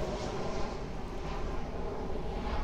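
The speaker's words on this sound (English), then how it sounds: "These planes are busy today." A propeller or jet airplane passes overhead as a steady, broad engine drone, moderately loud and continuous without any talk.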